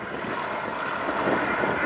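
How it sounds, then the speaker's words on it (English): Boeing Stearman biplanes fly at the Duxford Summer Airshow, their engines a steady, broad drone with a slight swell, heard continuously at moderate distance with faint wind noise. "As the two Boeing Stearman cadets turn downwind"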